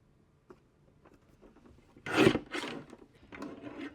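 Paper trimmer blade slicing through card bases in a craft setup, a couple of short, close rasping cuts after some quiet handling noises.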